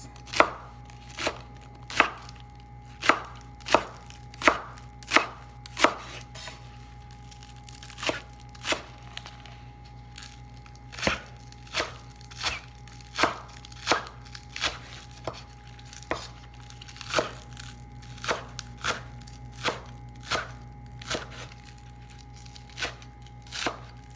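Onions sliced with a knife on a cutting board, a steady run of sharp, close chops spaced about a second apart, briefly quickening near the start, with no talking.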